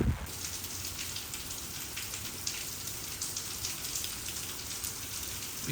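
Steady rain falls in the Florida Everglades near the Royal Palm Visitor Center, a dense, even hiss of drops hitting the ground and nearby surfaces that stays constant from start to end.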